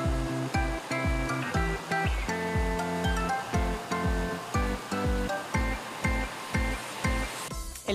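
The Machuca river flows at a Poza Blanca campsite, heard as a steady rushing wash of water. Rhythmic music with a regular thumping beat plays loudly over it throughout.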